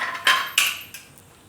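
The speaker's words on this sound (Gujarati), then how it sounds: "તો આને આપણે હવે થોડુંક હલાવી લેવું, બધું મિક્સ કરી લેવું એમ આ રીતે" A spoon stirs and mixes seven-grain khichdo in a pressure cooker pot, with three close, sharp metallic scrapes and clanks that fade quickly.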